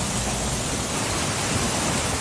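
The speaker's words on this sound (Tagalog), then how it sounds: "Bumuhos ang malakas na ulan pasado alauna kaninang hapon sa Baguio City. Maya-maya, umulan na rin ng yelo." A heavy rain and hailstorm lashes Baguio City, making a dense, constant roar of downpour that fills the whole stretch without any voices.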